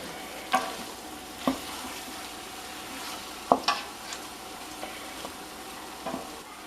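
Flour-dredged pork frying in hot oil in a pan, a continuous close sizzle broken by a few sharp clicks and pops, no voices.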